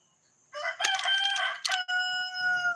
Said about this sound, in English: So I'm going to listen to my rooster.